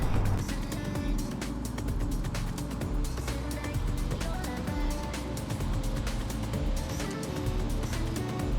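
Car engine idling and creeping at low speed while being parked diagonally, a steady low rumble with continuous background noise throughout.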